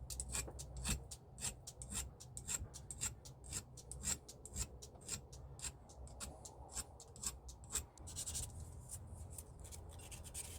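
Solder being filed off a handmade spoon handle bracelet, a close, steady run of dry rasping file strokes in a fairly even rhythm, quiet and alone with no talk.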